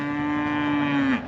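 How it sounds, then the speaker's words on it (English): A single hungry cow in a pasture gives one long, loud, steady moo that bends downward and cuts off near the end, close by and alone. "We've got some hungry cattle"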